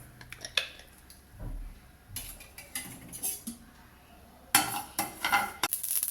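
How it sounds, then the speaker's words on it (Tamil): Mustard seeds crackle and pop in hot oil on a tawa in bursts of sharp, close spluttering, mixed with occasional clinks and scrapes of a utensil against the pan. "இதில் கடுகு கொஞ்சம் போட்டு தாளிச்சிக்கலாங்க."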